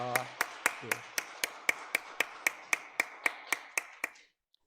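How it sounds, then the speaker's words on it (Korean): Congregation at a Korean Methodist church Easter morning service claps in a steady rhythmic beat, about seventeen even claps over four seconds, with a brief voice at the start. "우리 한번 우리 박수"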